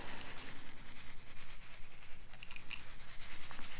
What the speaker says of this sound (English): You can kind of try to smooth out the creases and spread it around more